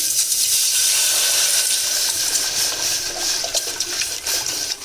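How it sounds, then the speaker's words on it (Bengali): Water poured steadily into a cooking pot set on the stove, a continuous close splashing hiss with no pauses and no talking. "আমি একটি পাত্র বসিয়ে দিয়েছি এর মধ্যে দেবো একটু জল"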